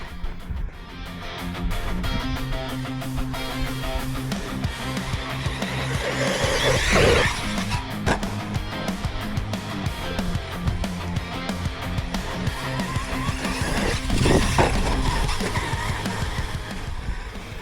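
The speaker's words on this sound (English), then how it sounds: "As I continued driving lap after lap, it reminded me why I enjoy RC bashing so much in the first place." An Arrma Quake 223S RC car driving lap after lap on a track, its electric motor whining steadily with repeated tire skids and surges as it corners, loud and close throughout.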